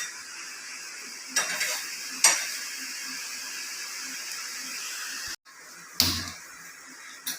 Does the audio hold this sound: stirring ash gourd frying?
yes